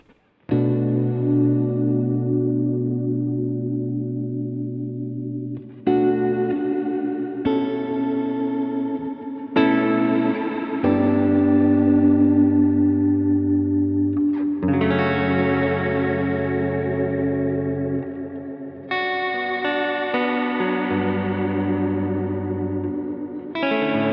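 Sustained guitar chords wash through a Strymon Cloudburst ambient reverb pedal with increased wobbling modulation, swelling and overlapping for a long spacey stretch, loud and without speech.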